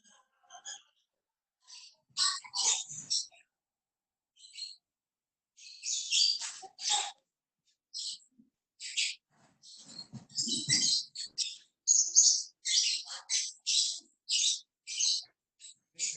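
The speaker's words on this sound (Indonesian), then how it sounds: "Burungnya sama burung kantor ya?" Small birds chirp in short, bright bursts of tweets close to a participant's microphone during an online meeting, repeating irregularly against near silence with a faint voice briefly in between.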